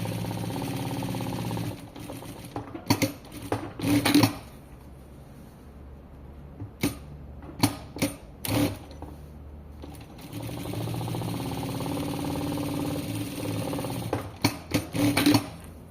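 Sewing machine runs in two bursts as it closes the sides of a folded tailored pocket, each a steady close motor hum, separated by a quiet gap with sharp clicks and handling knocks.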